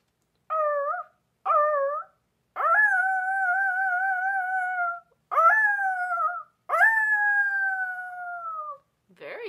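A person imitates a wolf howling at the moon, giving several separate howls that grow from short yelps into long, wavering, drawn-out cries, clear and close against silence.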